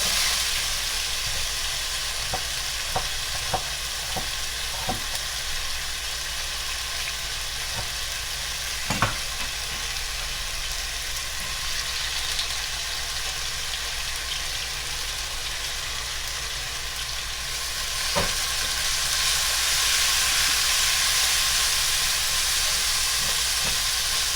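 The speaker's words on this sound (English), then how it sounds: "breaking up all the onions because I just threw them in here." Onions for beef pepper steak fry in a hot pan with a continuous broad sizzle that swells toward the end, punctuated by scattered light taps and scrapes as a utensil breaks them up, no speech.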